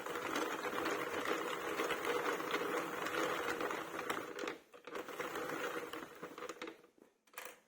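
A knitting machine carriage running a row of white yarn, a continuous mechanical rattling whir, fairly faint and close, that slows and breaks off near the end as the pass finishes.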